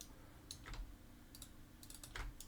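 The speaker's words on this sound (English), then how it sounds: "tap 3 on my keyboard," A single computer keyboard key is tapped during 3D modeling work, giving a few light clicks close by with no talk over them.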